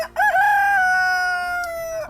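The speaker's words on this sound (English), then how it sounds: "That was really loud, Mr. Rooster." A rooster crows loudly and close by, one long drawn-out call that holds steady before trailing off.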